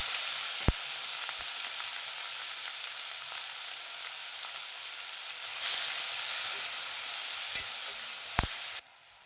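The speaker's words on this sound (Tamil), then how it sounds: "இப்போ இந்த தக்காளியும் போட்டு கொஞ்சம் வதக்கலாம்." Tomatoes sautéing in a pan for Karnataka thili saaru, a loud, steady hissing sizzle close by with a few sharp utensil knocks, swelling briefly near the end before cutting off.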